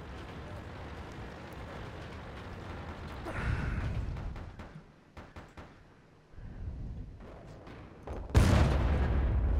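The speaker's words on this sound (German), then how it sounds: "wie da einfach mal die Shell ins Rohr geschoben wird und wie es einfach nur rumst" A tank in World of Tanks loading a shell into the barrel and firing, with a heavy booming blast and rumble, then quieter clanks and mechanical sounds before another loud bang near the end.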